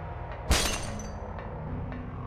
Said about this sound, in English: It's like glass shattering, right?